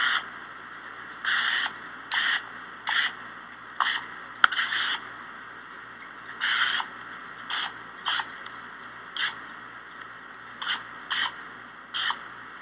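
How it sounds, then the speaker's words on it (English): Repeated short bursts of hissing non-stick cooking spray from an aerosol can, uneven in length and spacing, close by over a faint background hum. "have your inflate sprayed with the non-stick cooking spray"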